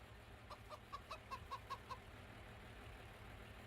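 Short clucks from a chicken in Farming Simulator 25, a run of about eight quick, evenly spaced notes in the first two seconds over a steady low farm-game hum, then only the background drone.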